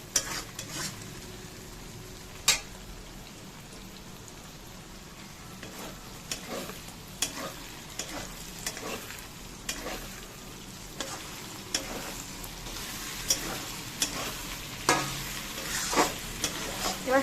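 Egg mixture stirred and frying in a pan, a continuous close sizzle broken by frequent spatula scrapes and clicks against the pan, growing busier toward the end.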